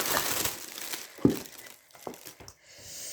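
Crinkly packaging around craft supplies is unwrapped up close, with a run of crackling rustles and a few sharper crumpling snaps, fading to quiet.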